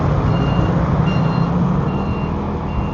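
Large truck reversing, its backup alarm beeping steadily in regular intervals over a loud, continuous engine rumble, close by.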